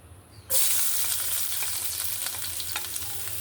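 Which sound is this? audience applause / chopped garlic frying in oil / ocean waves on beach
chopped garlic frying in oil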